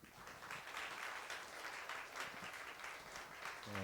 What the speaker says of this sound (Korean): 아니 박수는 안 쳐도 돼.